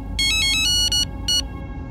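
Electronic phone ringtone chiming in three short bursts of bright repeated tones over a low steady hum, fairly loud and close, with no voices.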